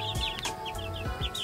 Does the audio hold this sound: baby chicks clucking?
yes